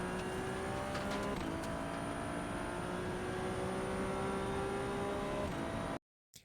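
A Ferrari 296 Challenge race car's engine in iRacing at Watkins Glen holds a steady, loud whine and builds gradually as it pulls through third gear, then cuts off abruptly near the end, with no talking.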